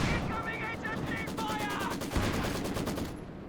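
Maxim machine gun in Company of Heroes 2 firing a steady, rapid burst of shots in a rhythmic stream, set among distant battlefield noise and a brief thump, fairly quiet in the mix.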